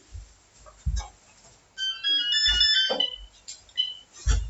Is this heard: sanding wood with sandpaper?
no